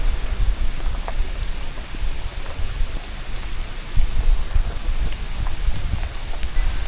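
Steady rain falls across a mountain campsite near Baguio in Tuba, a dense, even wash of drops with occasional louder patters, continuous and close for the whole stretch, no voices.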